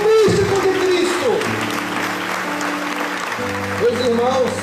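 Congregation applauding at a Catholic parish sermon during a Eucharistic week, a broad steady wash of clapping from a large crowd with sustained sung or spoken tones carrying over it.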